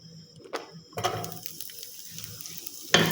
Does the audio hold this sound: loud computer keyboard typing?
no